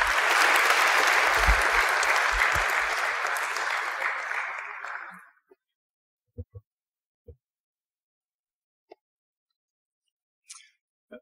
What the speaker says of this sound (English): And let's give this wonderful family a round of applause.